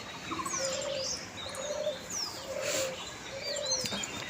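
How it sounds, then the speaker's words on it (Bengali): Several birds call outdoors in the morning: repeated soft cooing phrases mixed with bright chirps and whistled notes, moderately close against quiet ambient background. "পাখি ডাকছে"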